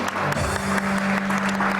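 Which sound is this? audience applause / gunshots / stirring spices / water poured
audience applause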